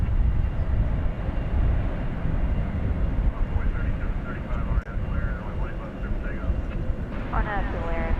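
A Boeing 737-800 airliner at DFW Airport, a loud broad engine roar that swells and holds through the clip, with radio voices talking over it.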